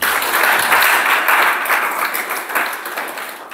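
A church congregation applauds in a steady, dense wash of clapping that goes on for several seconds and fades a little toward the end, with no voices over it.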